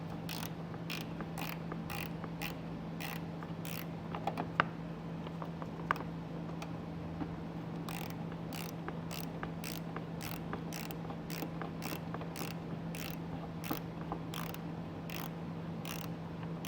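A ratchet driver fitted with a T15 Torx bit works a fastener loose on a 2024 GMC Canyon, giving two bursts of quick, quiet, evenly spaced clicks over a low steady hum.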